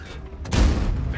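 A single tank cannon shot fires in the World of Tanks game, a heavy boom that bursts out midway and then rolls on into a rumbling tail.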